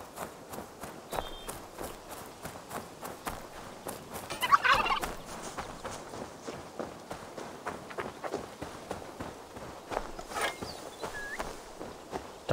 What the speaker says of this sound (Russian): Так, бешеная курица.